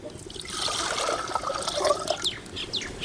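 Water pours from a small jug into a pot on the stove, making a close, continuous splashing trickle with bubbly gurgles for a few seconds.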